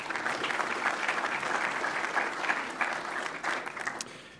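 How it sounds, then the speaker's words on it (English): Steady audience applause for event sponsors at a company showcase, a dense wash of many hands clapping, moderately distant and even, tapering slightly at the end. "They deserve another round of applause."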